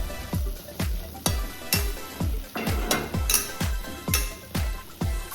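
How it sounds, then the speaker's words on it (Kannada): Tomato and mushrooms fry in a pan for mushroom donne biryani while a metal spoon scrapes and stirs in a steady rhythm of about two strokes per second over a soft sizzle. "ಒಂದೆರಡು ನಿಮಿಷ ಟೊಮೆಟೊ ಎಲ್ಲ ಚೆನ್ನಾಗಿ ಫ್ರೈ ಆಗಲಿ."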